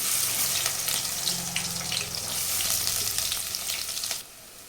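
Onion pieces frying in hot oil in a pan for Andhra-style gongura chicken, a steady close sizzle with occasional stirring that stops abruptly near the end.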